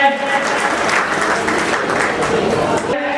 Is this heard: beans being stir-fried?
no